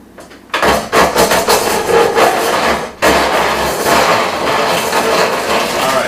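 A grain mill grinding stored corn into cornmeal, a loud, steady mechanical grinding roar that starts abruptly, stops briefly and then resumes.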